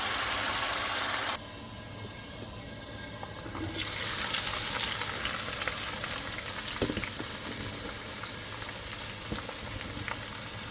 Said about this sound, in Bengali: ভাজি বসাই দেবো ভেন্ডি ভাজি